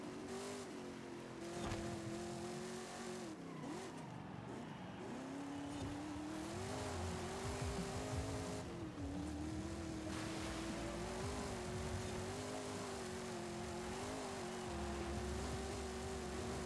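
Race car engine in Forza Horizon 5 holds steady high revs near the limiter in a lower gear, with continuous loud droning harmonics, brief dips and re-rises as throttle shifts, and faint tire noise underneath, no voices.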